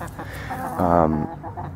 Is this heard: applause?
no